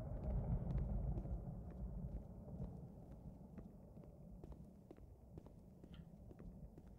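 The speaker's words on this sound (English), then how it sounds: "So now there's thunder in the background" Low thunder rolling in the background of the video game The Beginner's Guide, a sustained deep rumble that slowly fades, with soft footsteps ticking over it.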